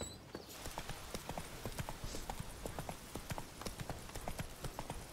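Rhythmic hoofbeats of a horse galloping steadily in The Witcher 3 video game, a fast, even clip-clop that runs throughout at close range.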